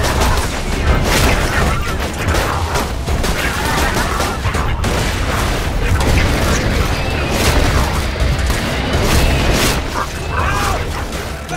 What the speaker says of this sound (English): I am really enjoying, like, shooting all these robots.